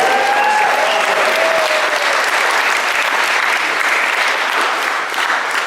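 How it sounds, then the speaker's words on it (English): Sustained audience applause at a Hawaiian community gathering in Pa'auilo, a dense steady wash of many hands clapping close and loud for about six seconds, with a few faint voices and a whistle-like tone early on. "Let's give them another round of applause, guys."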